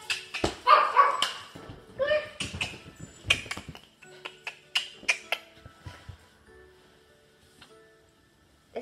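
A dog barks and yips in quick bursts close by, excited at first and then tapering to sparse yelps.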